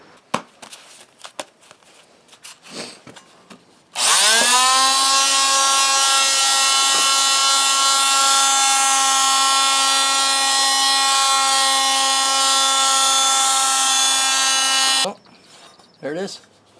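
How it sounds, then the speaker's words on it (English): A small oscillating sander works on a cast iron pan with a loud, steady high-pitched whine for about eleven seconds, framed by brief clatter and handling noises. "I'm going to use a small oscillating sander."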